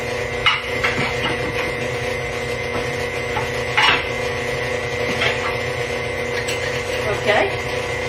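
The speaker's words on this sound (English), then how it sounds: "I'm over here trying to get some powdered sugar out of the canister." A powdered sugar canister is handled in a home kitchen, giving off scattered knocks, taps and rustling scrapes at close range over a steady background hum, with intermittent louder bumps.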